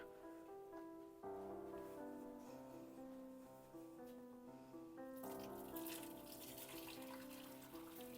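Water drains in a steady rushing pour as a pot of cooked gnocchi is emptied into a sink, with no one speaking.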